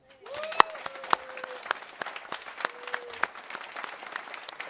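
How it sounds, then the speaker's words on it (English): A crowd claps in sustained applause with sharp individual claps standing out, while a voice speaks briefly over it near the start. "So the real heroes and the real round of applause is for Kerry and for Hannah."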